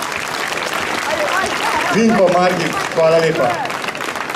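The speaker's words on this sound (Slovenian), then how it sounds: "Predlagam, da jim damo še en velik aplavz za to dobroto." An audience at a tombola event in Kranj applauds in a steady wash of clapping, while a voice speaks over the top and the applause swells slightly near the end.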